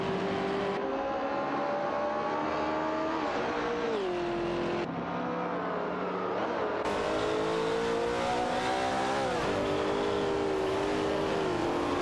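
Porsche 908 LH Coupe and Ferrari 330 P4 race cars roaring together in a continuous loud stretch, engine pitch climbing and dropping through gear shifts, with no voices present.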